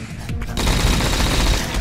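Rapid automatic gunfire from a PC shooter on tough difficulty, a dense loud burst of close shots that starts after a brief lead-in and rattles continuously to the end.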